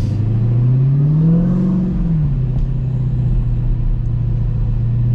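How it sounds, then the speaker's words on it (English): Loud, deep engine rumble from a Dodge Hellcat being driven, rising in a rev then settling back to a steady cruising drone, heard from inside the car. "First time driving a Hellcat."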